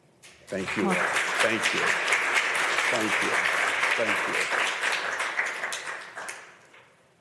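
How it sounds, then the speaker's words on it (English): A rousing round of applause swells quickly and holds steady for several seconds before tapering off, loud and dense, with a voice speaking briefly over the clapping. "that rousing round of applause is certainly for you"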